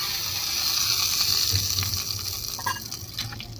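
Cumin seeds crackle and sizzle in hot oil, a steady frying hiss with small pops scattered throughout.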